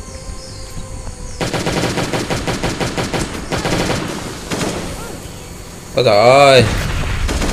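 Rapid M16 rifle bursts in the survival game Last Day on Earth: Survival, a dense rattling run of close, loud shots with pauses between volleys, a brief exclaiming voice and a swooping game effect near the end.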